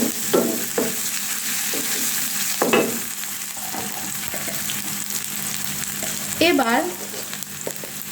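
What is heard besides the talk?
frying onion, chili, ginger and garlic in a pan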